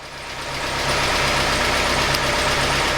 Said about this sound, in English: the engine's running well, but it's got a little bit of a shake to it